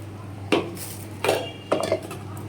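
Ceramic bowl knocking and clinking against a kitchen surface while being rinsed, three close, distinct clatters spaced across a couple of seconds over a steady low hum, no talk.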